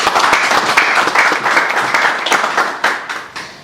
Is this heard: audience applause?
yes